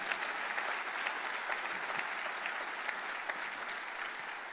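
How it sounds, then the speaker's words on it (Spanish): A church audience claps through a Spanish-language sermon, with continuous, even applause from many hands heard from some distance, fairly soft and unbroken for several seconds. "Dele otro fuerte aplauso al Espíritu Santo"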